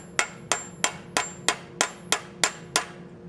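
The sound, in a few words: blacksmith cross peen hammer forging an acanthus leaf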